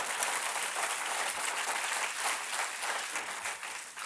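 A church congregation claps together, a steady dense wash of many hands applauding throughout, moderately distant and even in level.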